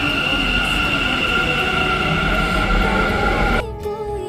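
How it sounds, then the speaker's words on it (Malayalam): A metro train runs at speed toward MG Road, a loud, close, steady rumble and whine of wheels and motors inside the carriage that drops away abruptly near the end. "ഞങ്ങൾ നേരെ മെട്രോ എടുത്ത് MG റോഡിൽ കബോൺ പാർക്ക്."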